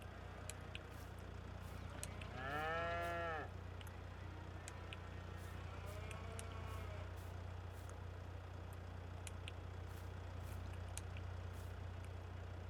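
Cattle lowing in the Western Wilds survival video game: one loud, drawn-out moo, then a fainter second call a few seconds later, over a steady low ambient hum.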